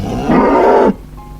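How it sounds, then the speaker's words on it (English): One cow gives a single loud, low moo lasting about half a second inside an animal-themed room of a children's educational quiz cartoon, with quiet background sound before and after and no speech. "they're met with bars and moos"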